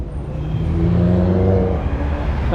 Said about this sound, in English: Now that sounded like it had an engine then. That was one of the cars next door.